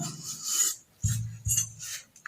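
Knife slicing banana peel into long strips on a board, three short rasping cuts in close succession, near and alone.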